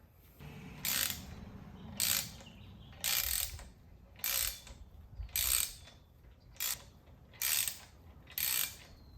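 A long-jaw puller draws the second gear wheel and synchro hub off a shaft in a Lamborghini Gallardo transmission, producing about eight evenly spaced bursts of ratcheting metal clicks, close and fairly loud, with no talking.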